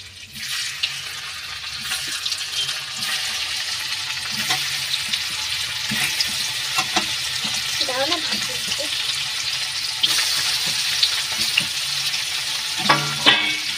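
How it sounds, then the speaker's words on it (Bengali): Frying in oil and butter in a kadai, a steady close sizzle and crackle running throughout, with occasional spoon-stirring scrapes and clinks over it. "আগে তেলটা ইউজ করবে কড়ার মধ্যে, দিয়ে তারপর বাটারটা দেবেন। এগুলো আমি এবার ভেজে নেব।"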